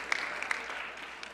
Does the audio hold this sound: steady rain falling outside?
no